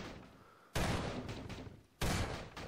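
Two loud, sharp cannon blasts from a revolver-loading prop cannon in Garry's Mod, each hitting abruptly with a broad roar that decays over the following second, with a fainter reverberant boom between them.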